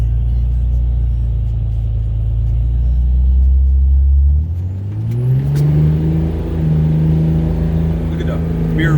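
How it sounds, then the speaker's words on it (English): An old diesel truck on salty roads launches, its low engine rumble dropping briefly then climbing into a steady rising rev, loud and close, with a voice talking over it. "Stop here and do a little launch."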